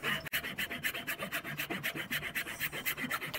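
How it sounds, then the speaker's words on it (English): A hand file rasps across wood held in a vise, a steady series of about twenty rough back-and-forth strokes at a brisk, even rhythm, close and clear with no talking. "Then you can put that back in the vise and use your file"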